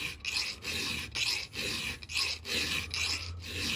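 Hand file rasping across a .404 semi chisel chainsaw chain, steady back-and-forth strokes in a regular rhythm with brief pauses between passes, close and loud.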